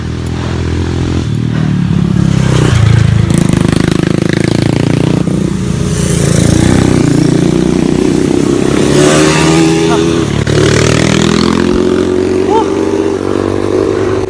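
Motorcycle engine revving hard as the bike climbs a steep 40-degree slope, a loud continuous drone with rising and falling pitch and clattering mechanical noise, with voices talking over it.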